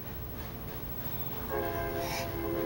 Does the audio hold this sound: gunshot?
no